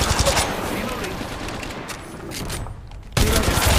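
Rapid automatic gunfire from the mobile battle-royale game Apex Legends Mobile, a dense loud burst that thins out briefly before another sharp volley erupts near the end.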